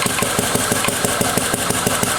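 A transparent combustion engine with fully variable valve actuation runs steadily at 750 RPM, its loud mechanical chugging beating in an even, rapid rhythm over dense broadband noise.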